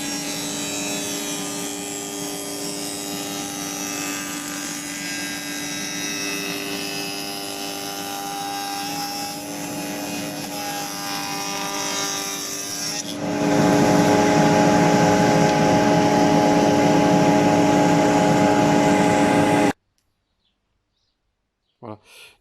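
Band saw cutting rebates in wood for a Dadant ten-frame beehive cover, a loud continuous whine with a sustained tone that grows heavier partway through, then cuts off abruptly into near silence.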